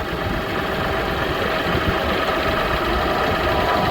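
A compact tractor engine runs at a steady idle nearby, a continuous low mechanical rumble with faint vibration and no talking.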